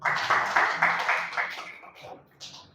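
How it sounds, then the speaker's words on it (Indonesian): Classroom audience clapping for a student group during a teaching practice session, a burst of rhythmic, fairly close claps in regular beats that thins out and fades toward the end. "Tepuk tangan untuk kelompok"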